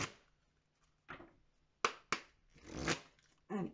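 Oracle cards shuffled by hand at close range, several quick riffling bursts with short pauses between them, faint and alone.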